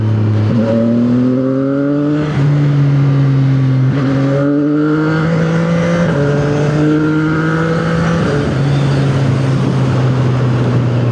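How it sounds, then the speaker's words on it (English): Motorcycle accelerating into traffic, the engine note climbing through several gear changes with rising pitch steps, loud and close and steady, with no one talking. "I can casually accelerate and get with the traffic."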